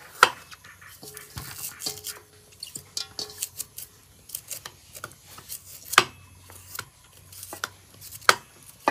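Bamboo shoots being chopped with a blade on a board, a series of sharp irregular knocks and scraping cuts, close and fairly loud, with no talk.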